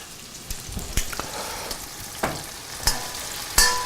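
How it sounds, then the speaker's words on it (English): Puttanesca pasta lifted with tongs and dropped into a pan, giving a steady low sizzle broken by several sharp clinks and splashy bursts as strands land and are moved around. "We're just going to bring our pasta over to the pan."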